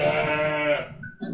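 A single close sheep bleat on a farm during lambing season, wavering and nasal, lasting about a second.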